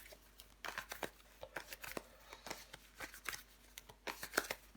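Tarot cards are shuffled and turned over in a quiet room, a run of soft, crisp flicks and slaps coming in uneven bursts, close and alone.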